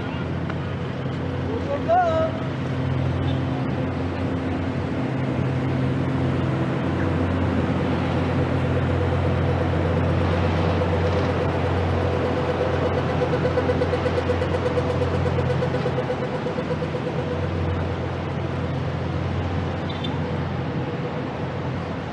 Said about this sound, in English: And there they have something called traffic.